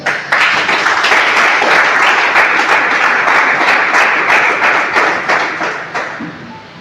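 A church congregation claps in a dense, sustained burst of applause lasting several seconds, loud and close, then gradually fading out.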